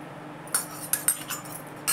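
A metal spoon clinks against a bowl while yogurt is added to methi paratha dough, with a few sharp, bright taps close by after a quiet start.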